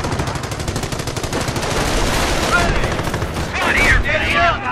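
Heavy gunfire rattles across a World War II battlefield in the strategy game Company of Heroes, with continuous rapid machine-gun bursts and overlapping rifle shots throughout and a brief whistling tone near the end.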